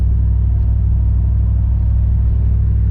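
A small block Chevy V8 with 410 gears and a 700R4 transmission drives along at steady cruise, a loud, continuous low engine rumble with an even drone and no letup.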